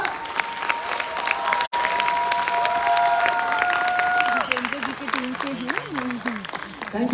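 Audience applause and cheering at a gathering, a sustained wash of clapping with a brief dropout, a voice speaking over it toward the end.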